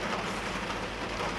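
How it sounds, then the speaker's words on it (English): Steady rain falls outside in Tennessee, a dense continuous hiss with no breaks or distinct drops, fairly near and even in loudness throughout, with no talking. "For whatever reason, Tennessee has turned into rain."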